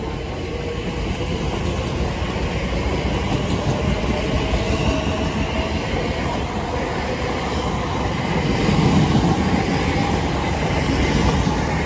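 A Class 345 train passes through Ealing Broadway station at night. A loud, steady rumble of wheels on rail runs throughout, with faint squeal and clatter, and it swells slightly toward the end.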